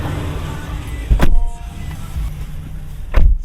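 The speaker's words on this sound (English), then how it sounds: "when you start it, it immediately puts you into place to your last driving setting" The power driver's seat of a 2023 Honda CR-V VX whirs into its saved position, a steady motor hum inside the cabin with two short thumps as the movement starts and stops.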